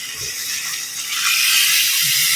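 Water pours steadily into a cooking pot for a bottle gourd stew, a continuous splashing rush that grows slightly louder and fuller partway through.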